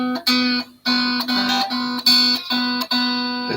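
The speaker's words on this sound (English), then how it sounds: "That's that tremolo spring. You hear that?" Bright metallic ringing and twangy strums from the tremolo spring of a Harley Benton ST-62 Deep electric guitar, in several sharp attacks that each decay and sustain, close and clear with no talking.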